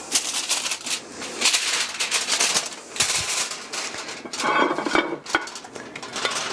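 Aluminium foil crinkling and rustling continuously as it is pressed down over an upturned baking pan, loud and close with bursts of crackle.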